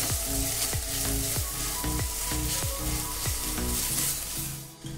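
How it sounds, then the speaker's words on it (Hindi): Finely chopped green chillies fry in a pan while cooking potato chicken cutlets, giving a steady close sizzle. Regular stirring knocks and scrapes of a utensil break through it, with no voices. "2 हरी मिर्च को हमने बारीक चॉप कर दिया है। इसे भी अच्छे से भून लेंगे।"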